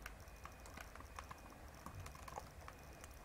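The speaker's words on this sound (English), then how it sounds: "I'll just click here and I'll type in relationship" Quick, light keystrokes on a computer keyboard fall in an uneven, near, faint patter of clicks, and no one speaks over them.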